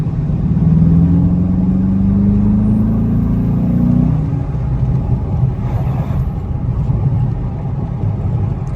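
A car with an engine bigger than a 3.6 liter V6 accelerates while driving, its loud, steady engine drone rising in pitch over about four seconds before settling into an even, rumbling cruise.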